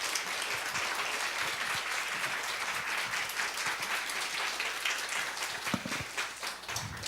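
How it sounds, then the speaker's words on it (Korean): Congregation in a church giving enthusiastic applause to welcome a missionary, a sustained, even wash of many hands clapping from start to finish. "우리 박진욱 선교사님 나오실 때 우리 힘찬 박수로 선교사님을 맞이하겠습니다"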